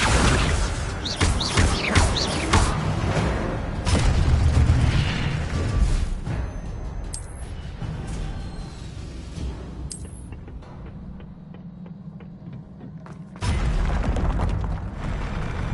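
Incendio fire spells from Hogwarts Legacy burst repeatedly in loud booming, crackling blasts, separated by quieter, rumbling lulls, before one more strong burst near the end.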